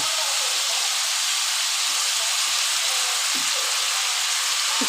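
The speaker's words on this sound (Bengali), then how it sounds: "এবার দেখুন, এর মধ্যে তেজপাতা দিয়ে দিচ্ছি।" Bay leaves sizzling in hot oil for a wedding-style chicken dish, a steady bright hiss of frying that holds evenly without a break, with a few faint clicks and taps of the pan underneath.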